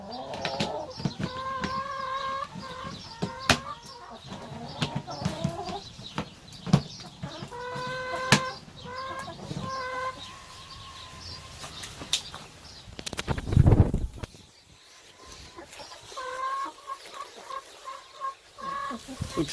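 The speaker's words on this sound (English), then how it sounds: "the chickens are being noisy" Chickens cluck and squawk repeatedly nearby, a busy flock calling in bursts with some clattering and rustling between.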